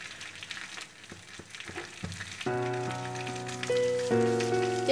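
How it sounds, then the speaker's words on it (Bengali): Oil poured into a hot pan gives a soft frying hiss and a few light taps, set under quiet background music, with no one talking. "এবার আমি এই তেলের মধ্যে অল্প আর একটুখানি তেল দিচ্ছি"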